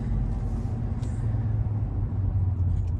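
Toyota FJ Cruiser SUV cruising on the road, a steady low engine and road rumble heard from inside the cabin, continuous and even throughout.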